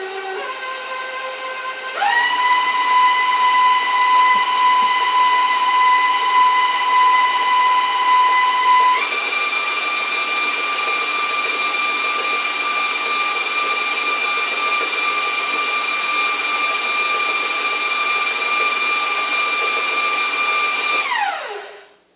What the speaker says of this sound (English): all I gotta do is get it nice and mixed into a batter.